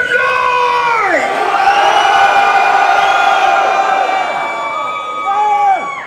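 Large audience at a live Cradle of Filth metal show in Charleroi roaring, cheering and yelling in a loud, continuous wall of crowd noise, with a brief swell of shouts near the end.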